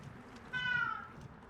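A house cat carrying a mouse in its mouth lets out one loud, drawn-out meow that rises then falls, heard close against a quiet room.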